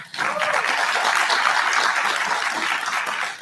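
An audience at a cultural conversation event breaks into a full round of applause, a dense, steady wash of clapping that starts abruptly and holds evenly before tapering slightly at the end.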